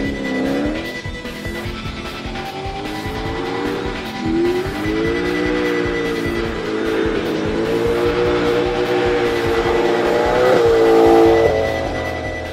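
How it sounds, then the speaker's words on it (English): Tuned car, a City Performance C63, lights up its tyres in a long, loud, wavering squeal over a hard-revving engine, the screech bending in pitch and building toward the end of the burnout. "just wanted to light the tyres up"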